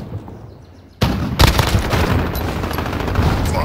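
Gunfire and an RPG blast in Modern Warfare, a video game: a loud sudden burst hits after a quiet second, a sharp boom follows, and dense rattling fire carries on close.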